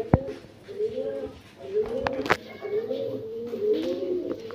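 Royal Teddy pigeons coo in soft, repeated rolling phrases close by, with a few sharp clicks and background murmur between calls.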